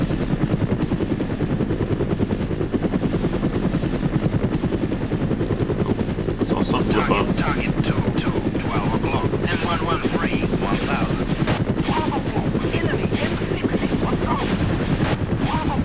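A helicopter in the military video game ArmA, its rotor chopping in a steady rhythmic beat, joined midway by rapid bursts of gunfire. Speech is heard over the helicopter and shots.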